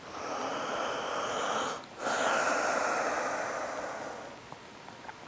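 Steady, audible breathing during a yoga stretch held in a forward fold, with soft continuous airflow, a brief dip near two seconds, then another long breath fading toward the end.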